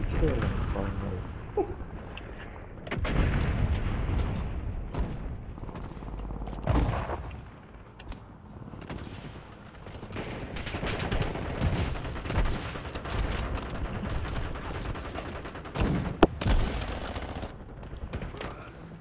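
Gunfire from an HDR sniper rifle in the video game Warzone, sporadic shots and bursts of battle noise under ongoing gamer chatter, players talking over the action throughout.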